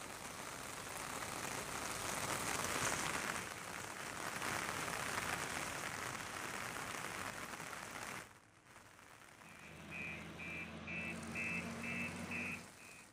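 Steady rain pours in Karnaprayag in the monsoon hills, a dense hiss for most of the stretch, then a quieter patch where a tonal electronic beeping appears over the softer patter.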